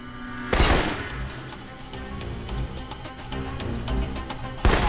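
Assault rifle fire in the video game Alpha Protocol, a dense stretch of rapid shots over game music and ambience, with a louder burst at the start and another near the end.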